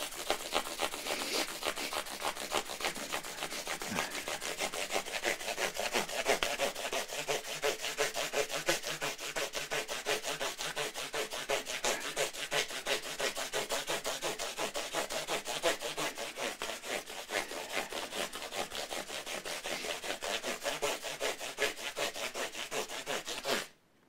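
Fine-grit sandpaper rubs steadily over a Cort G280 guitar in quick, even back-and-forth strokes, a close, continuous scratchy hiss that runs without pause until it stops abruptly at the end.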